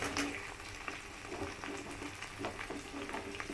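Onions frying in a pan for chilli paneer give off a steady, broadband sizzle with a few soft stirring clicks. It stays close and fairly even, with no talking.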